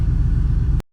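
Hellephant-swapped Chrysler 300 idling while warming up, a loud, steady low rumble with a slight pulsing throb, close by, cutting off abruptly.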